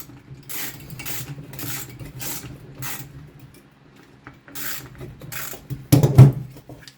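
A recoil spring assembly is tightened down by hand, giving a series of short ratcheting mechanical bursts at a steady pace, with a louder clunk near the end.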